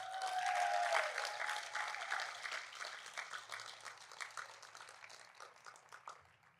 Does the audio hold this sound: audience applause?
yes